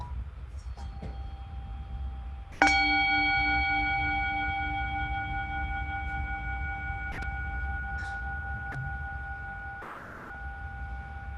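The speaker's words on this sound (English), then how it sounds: "Listen to the peace bell." A large peace bell is struck once at a Lanterns for Peace ceremony, and its long sustained ringing tone slowly fades. Faint background noise and a few soft knocks can be heard.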